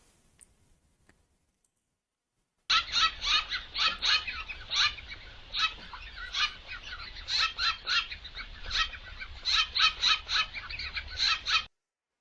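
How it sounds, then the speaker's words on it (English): Two birds squabble as one bullies the other: a run of sharp, high chirps and squawks in quick irregular bursts, fairly loud and close, with no talking. "This one is the bully bird. It's one bird bullying another"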